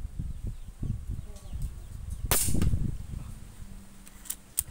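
A Java Maddox rifle fires once in a grouping test in strong wind, giving a single sharp crack midway through, surrounded by gusting wind noise and faint voice-like murmurs.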